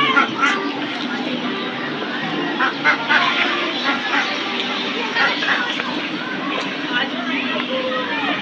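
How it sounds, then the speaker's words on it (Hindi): Ducks quack in a park enclosure, their calls mixed into continuous nearby chatter and general outdoor noise. "यहाँ पे बत्तख रखे हुए हैं"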